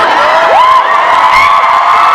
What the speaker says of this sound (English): Hold that thunderous applause for a second, will you?